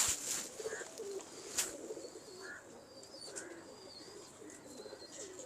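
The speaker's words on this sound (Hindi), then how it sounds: "अथरा कबूतर है" Pigeons coo softly in a loft, low murmuring calls repeating faintly with a few brighter chirps from other birds and a light background hiss.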